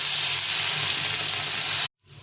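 Bata fish fry in hot oil in a pan, a loud, steady sizzle and crackle that cuts off abruptly near the end, followed by a brief quieter tail.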